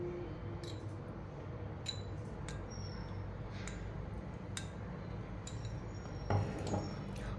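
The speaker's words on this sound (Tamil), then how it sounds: "நல்லா மிக்ஸ் பண்ணிக்கோங்க" A spoon stirs a drink mixture in a glass, giving faint, sparse clinks and light ticks at irregular intervals over a quiet background hum.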